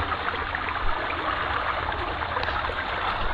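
Cold, drinkable mountain water flowing steadily at Kawasan Falls in Badian, Cebu, a continuous close rushing wash with no pauses and no talk over it.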